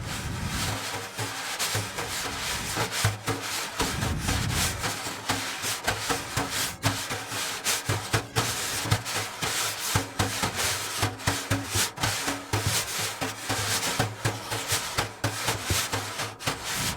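Wire brushes swept and rubbed across the head of a frame drum in a continuous swishing pattern, with soft accents and low thumps mixed in, close and steady throughout.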